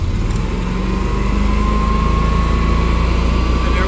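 A 24 kW natural-gas standby home generator, rated 21 kW on natural gas, runs its weekly exercise cycle with a steady, loud engine drone and a constant hum, unchanging throughout with no voices.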